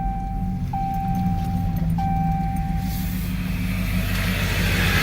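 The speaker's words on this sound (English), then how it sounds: "Let me get out of this FedEx truck's way." A FedEx delivery truck drives close behind on a rural road near an old farmhouse, with a steady loud engine and road rumble, a high whine holding on top and rising wind-like noise toward the end.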